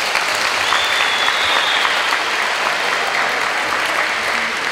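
An audience claps steadily and densely at a live event, with applause filling the whole stretch at an even level and no voices above it.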